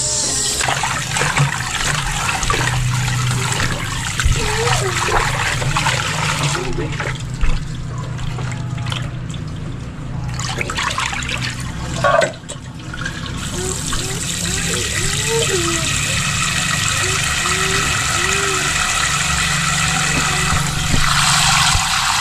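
Running water splashes and trickles steadily as something is rinsed by hand, with faint voices and small clatters mixed in and the flow pausing briefly partway through.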